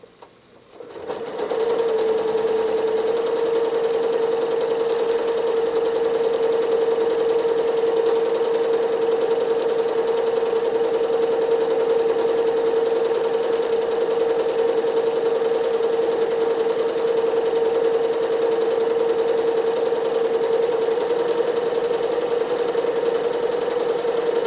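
A sewing machine running steadily through free-motion quilting, filling a large open space with dense stitching. The whirring motor hum is loud and constant from start to finish, close up, and no one speaks over it.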